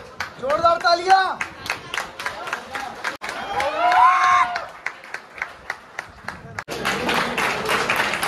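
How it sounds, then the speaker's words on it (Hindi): A crowd at a deadlift championship claps and cheers while voices shout over it, with a steady run of hand claps in between. "जोरदार तालियां"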